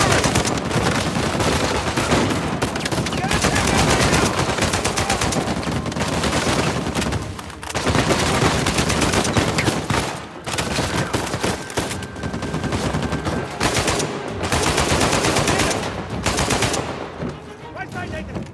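Heavy automatic gunfire from a mounted gun turret in the action video game Uncharted 4: A Thief's End, loud and nearly continuous for the whole stretch in rapid bursts, with brief lulls and battle noise around it.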